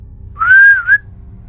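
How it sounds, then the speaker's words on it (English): A single loud, sharp finger whistle holds one high piercing tone for about half a second, dips briefly, then ends on a short upward flick, close and clear over a quiet low hum. "he put his fingers to his lips and whistled."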